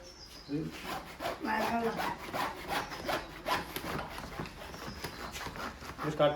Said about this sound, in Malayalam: നമ്മള് ആക്സോൺ ബ്ലേഡ് വെച്ചിട്ടാണ് നമ്മൾ കട്ട് ചെയ്ത് പൊട്ടിക്കല